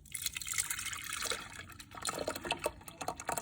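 Egg pudding mixture poured into an Instant Pot, a short liquid pour with trickling and splashing into the pot, close and fairly loud.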